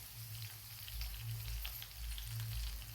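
Curry leaves sizzle as they are dropped into hot oil for a Maharashtrian dal tadka, seasoned with salt and turmeric. Steady close frying crackle with no voices.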